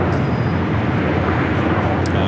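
A heavy airliner rolls for takeoff on runway 24 left at LAX, a steady broad roar of jet engines holding loud and even throughout with no voices over it.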